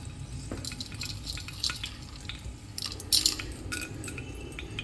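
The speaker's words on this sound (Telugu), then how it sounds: "శనగపప్పు వేసుకుంటాం. కొద్దిగా వేగాక పోపు దినుసులు వేసుకుంటాము." Chana dal sizzles in hot oil for a tempering, a soft, steady frying hiss with occasional stirring scrapes and small spatters close by.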